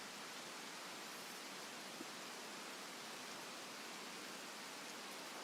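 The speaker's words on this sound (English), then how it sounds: "I don't like the rain, either. Makes it hard to hear." Steady rain in the video game Escape From Tarkov, a dense, even hiss that stays constant and fairly loud throughout, with no talk over it.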